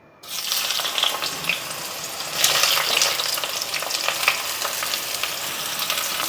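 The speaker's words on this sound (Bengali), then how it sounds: "এইবার আমার তেলটা তেতে গেছে এবার আমি আগে চাল কুমড়োটা তেলের মধ্যে দিয়ে দিচ্ছি" Pieces of ash gourd dropped into hot oil for a Bengali shukto, setting off a loud, dense, continuous sizzle that swells briefly as more goes in, close up with no voices.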